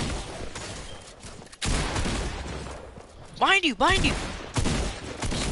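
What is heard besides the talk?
gunfire in a video game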